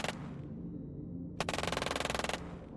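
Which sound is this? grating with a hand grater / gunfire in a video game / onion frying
gunfire in a video game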